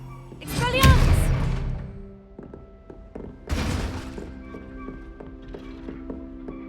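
Expelliarmus disarming spell cast in Hogwarts Legacy on PS5: a sharp magical burst with heavy thunks and a shimmering sweep, a quieter lull with faint clicks, then a second burst trailing into sustained ringing tones.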